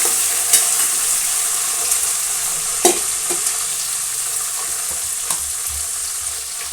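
Chopped onions fry in a pan, sending up a loud, constant sizzle while a spoon stirs them, adding occasional scraping knocks against the pan, with no talking.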